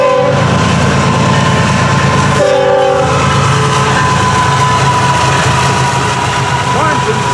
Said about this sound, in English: And they're working to get this train moving.